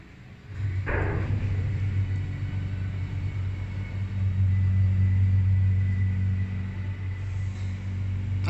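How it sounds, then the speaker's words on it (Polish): A large lift in a shopping centre rises with a steady, loud low hum and rumble after a brief start, the motor drone holding level throughout with no voices. "Jedziemy w górę. Jest wielka winda."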